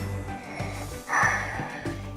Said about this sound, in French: Et là, je crois qu'elle ronfle.